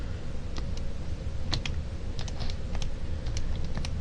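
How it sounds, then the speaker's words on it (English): Calculator keys are pressed in quick irregular taps, a dozen or so light clicks over a steady background hiss, close to the microphone. "If I type this in the calculator,"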